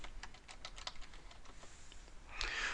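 Someone typing on a computer keyboard to log on, a quick run of soft, close key taps, with a louder clatter right at the end.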